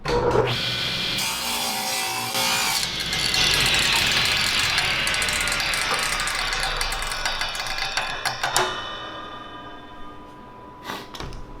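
A table saw cuts through a thick block of wood with a loud, close, grinding whine and rasping chatter that holds steady for several seconds, then quiets and ends with a few brief knocks.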